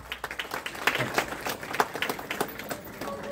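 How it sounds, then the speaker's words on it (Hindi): Audience clapping at a state-level clean school award ceremony as a Rudrapur school is named, a steady patter of many hands with sharper individual claps throughout, moderately loud and close. "तालियां बजती रहनी चाहिए"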